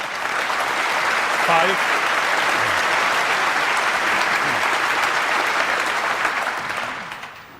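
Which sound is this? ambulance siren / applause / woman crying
applause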